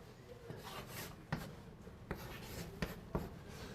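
Chalk or marker writing out a derivative formula on a classroom board during a university calculus lecture, steady scratchy strokes with a few sharp taps, no talk over it.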